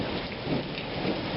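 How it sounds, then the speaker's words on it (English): Continuous low rumble of rolling thunder blended with steady rainfall, fairly close and even throughout, with no voices. "you can hear the thunder rolling"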